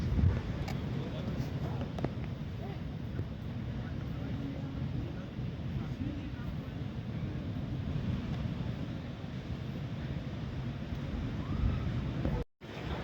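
Rough ocean surf at a beach near Playa Grande in the Dominican Republic, a constant low roar of crashing water mixed with gusting wind buffeting the microphone, with no talking over it.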